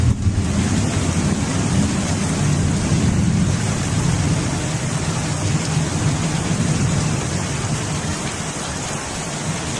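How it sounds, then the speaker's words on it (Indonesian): Heavy rain falls steadily and loudly, with a low rumble of thunder underneath, continuous and close throughout with no voices. "Nah, hujan."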